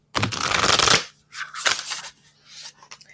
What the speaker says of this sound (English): Let me get these shuffled.